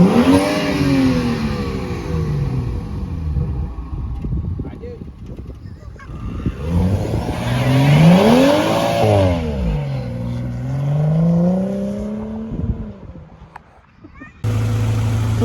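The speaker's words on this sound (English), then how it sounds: "We have the Integra running for the first time in months." A Honda Integra engine runs close by and is revved repeatedly, rising and falling in pitch through several rev sweeps, then settles to a steadier idle near the end.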